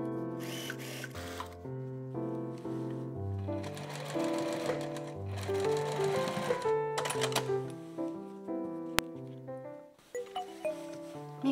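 A sewing machine stitches along the edge of a jacket's back facing in several quick mechanical bursts with short pauses between runs, close and clear without speech.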